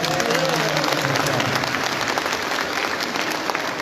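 Applause at a district political organizational meeting, a hall full of people clapping steadily and densely for a few seconds, with faint voices mixed in.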